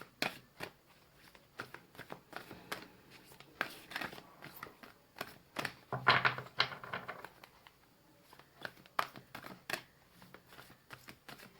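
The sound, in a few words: shuffling and drawing energy oracle cards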